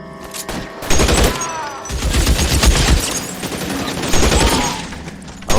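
Gunfire in the video game L.A. Noire, loud rapid bursts of shots and fusillades crackling continuously at close range, with shouting voices mixed in.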